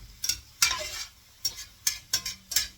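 Onions and scallops stirred in a pan, giving soft sizzling broken by repeated scraping strokes of a utensil, close and moderately quiet.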